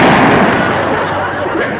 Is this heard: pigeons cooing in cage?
no